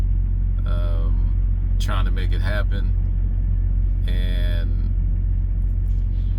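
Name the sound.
truck engine rumbling while driving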